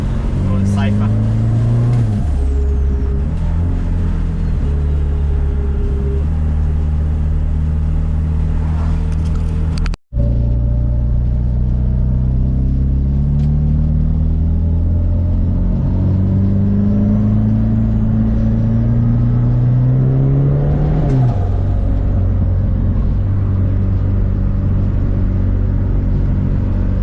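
A modified, turbocharged Ford Falcon XB or Escort MK2 engine idles loudly and is revved repeatedly close by, its deep rumble climbing in pitch on each rev, with a brief cut partway through.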